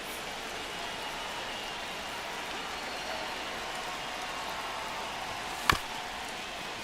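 A baseball stadium crowd in MLB The Show 25 keeps up a steady, even roar during the ninth inning of a one-run game, broken by a single sharp crack near the end.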